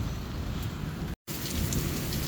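Heavy thunderstorm rain pours steadily around a fast-food drive-thru, with a low rumble of thunder beneath the dense hiss; the sound cuts out briefly midway and then resumes.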